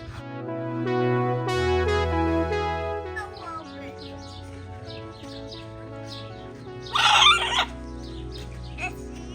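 Chickens cluck steadily at close range at a wildlife park, with a sharper, louder squawking burst near the end.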